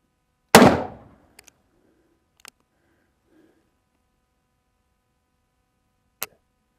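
A Colt Anaconda revolver fires one sharp, loud shot with a decaying echo, then quieter clicks and small metallic knocks, and a further short report near the end, with otherwise silent pauses.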